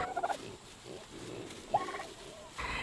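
White broad-breasted turkeys from McMurray Hatchery, sixteen weeks old, gobble in two short rattling bursts, one at the start and one near the end, with quieter flock and yard noise between.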